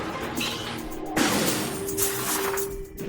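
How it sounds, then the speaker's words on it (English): A heavy mechanical door in Metroid Prime Remastered hisses and clanks as it moves, building to a sharp metallic burst followed by a sustained whirring tone and a softer closing thud near the end. "blast doors opening and closing"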